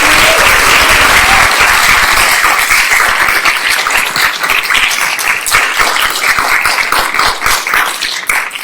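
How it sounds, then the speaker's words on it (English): A dense round of applause from a conference audience fills the room for arts students after their pitches, loud, steady and sustained throughout with no voices over it. "Can we have one more round of applause for all of the students?"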